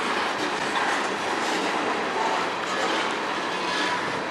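A steady, dense roar of a train rolling past nearby on the Strathroy Subdivision, with a faint rhythmic clatter of wheels and no voices.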